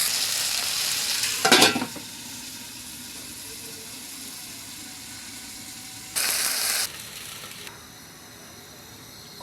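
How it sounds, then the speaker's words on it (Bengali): Okra fries in oil with a soft, steady sizzle, broken by two loud bursts of scraping stirring as the pieces are pressed and turned in the pan. "হালকা চাপা দিয়ে দিয়ে ভাজবো যাতে করে ঢেঁড়সের কালারটা বজায় থাকে"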